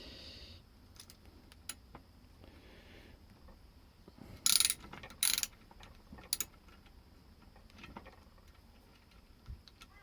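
A 12mm socket wrench ratchets on an MKS folding bicycle pedal clamped in a vise, giving a few quick bursts of clicking near the middle over quiet background handling.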